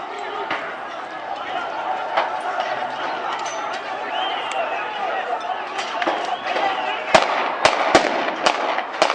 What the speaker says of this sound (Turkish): Silah sesleri yükseliyor gördüğünüz gibi.